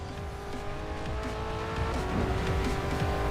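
A Ford GT in the racing video game Racing Master roars close and steady, its engine note holding and then rising as tyres squeal briefly through a corner on a night mountain road.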